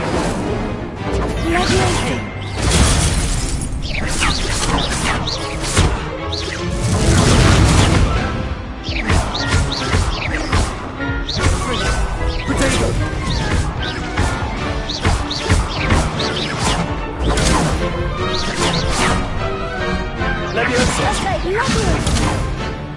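Incendio fire spells cast again and again in the video game Hogwarts Legacy, loud crashing bursts and whooshes landing in quick succession amid thumping combat noise, with voices heard at times.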